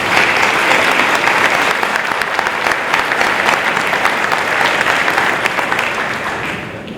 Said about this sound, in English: If we could thank her in a round of applause.